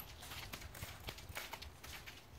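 Hooves of a horse being ground driven by a handler walk in a steady clip-clop, a run of soft thuds over a broad ground-noise hiss at close range.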